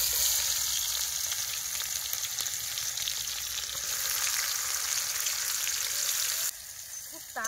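Chopped onions hit hot oil in a pan over a wood fire, giving a loud, steady, close sizzle that crackles for several seconds before a brief dip and a short voice near the end.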